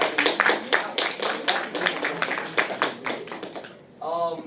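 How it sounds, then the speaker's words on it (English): A class audience gives a round of applause for a student's project, a burst of uneven hand clapping from a modest group that fades out before a voice begins speaking. "Can we have a round of applause for that one?"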